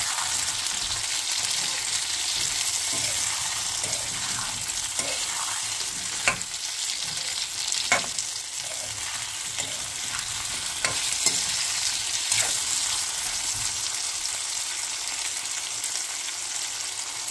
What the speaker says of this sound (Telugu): టమాటాలు వేసిన తర్వాత ఒకసారి మంచిగా కలుపుకొని